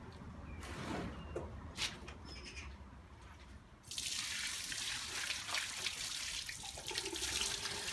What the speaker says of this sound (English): the water did drain down